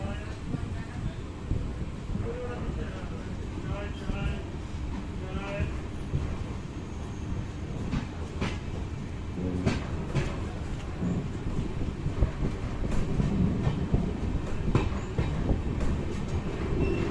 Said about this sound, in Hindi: तो चलिए ट्रेन डिपार्ट हो चुकी है, मैं आपको दिखाता हूँ डिपार्चर